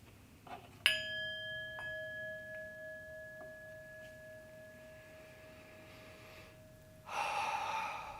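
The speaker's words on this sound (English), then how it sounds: "deep breaths." During a guided meditation, a sustained ringing tone, like a bowl or chime, slowly fades over several seconds. It is followed by one long, audible deep breath close to the microphone, with no talking.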